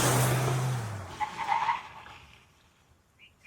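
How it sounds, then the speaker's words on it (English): A Mahindra Thar Roxx SUV brakes hard from speed, tires skidding: a loud low scrub over the first second that fades into a softer squeal and rolling noise, then near quiet. "we shall accelerate a bit and stand on the brakes at maybe a higher speed"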